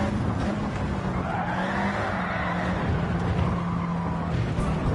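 Race car lapping a track in Gran Turismo 7, a steady loud engine drone with tyre squeal and skidding running throughout, no voices.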